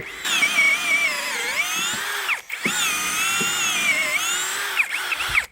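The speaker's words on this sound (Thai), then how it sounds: "อันนี้ก็จะเป็นโหมดเจาะธรรมดาที่เอาไว้สำหรับงานเจาะไม้เจาะเหล็ก PVC ทั่วไป" A TEXUS BULL TX-9633 cordless impact drill in plain drill mode bores into wood, its motor whining loud and close in two long runs with a brief stop between, pitch sagging under load then recovering.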